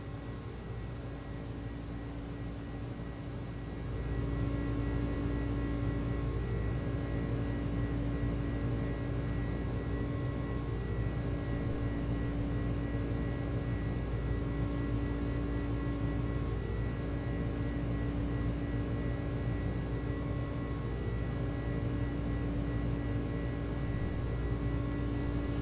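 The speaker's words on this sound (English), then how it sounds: "Turn up these engine sounds a little bit" Airbus A300 jet engines in a flight simulator game, a steady droning hum with a tonal whine that steps up louder after about four seconds and then holds constant.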